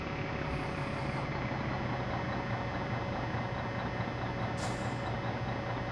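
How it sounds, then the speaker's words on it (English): A van engine idling in the video game My Summer Car, a low, steady rumble that hums on evenly and quietly with a faint hiss rising briefly near the end. "let's just leave it idling for a while"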